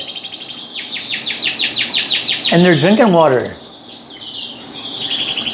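Young birds kept in an outdoor fly cage during moulting chirp in rapid repeated high trills, with a louder burst of warbling calls in the middle, while someone talks nearby.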